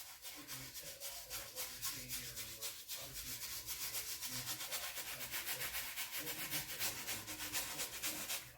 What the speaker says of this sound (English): I just roll it in, get a little bit of gray, a little bit of blue, and then we're going to scrub it in.